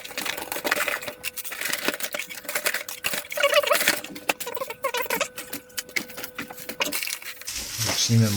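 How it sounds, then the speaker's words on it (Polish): Silver coins being handled while a package is unboxed give off bright metallic clinks and taps in irregular bursts, mixed with rustling and light knocks, close and fairly loud. "Zostały jakieś srebrne monetki, cały pakiet."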